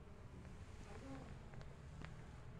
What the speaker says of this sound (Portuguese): Olha só a quantidade de abelha aí já, pessoal.